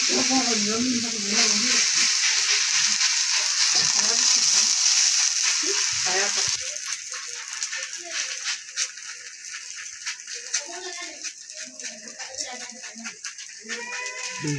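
Rice and bottle gourd pitha batter fries in oil in a pan, giving a strong hiss for the first few seconds that then settles into quieter sizzling with light rattles and a voice speaking.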